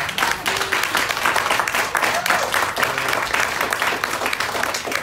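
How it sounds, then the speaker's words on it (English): An audience applauds at a panel dialogue event, producing dense, sustained clapping from many hands that holds at a steady level for several seconds. "Let's give them all a round of applause."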